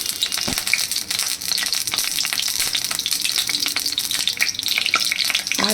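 Cumin seeds, a dried chilli and a bay leaf sizzle in hot oil, a steady close crackling fry with small pops and occasional stirring scrapes, no voices.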